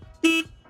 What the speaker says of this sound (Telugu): అండ్ హార్న్ చూసుకోవచ్చు మీరు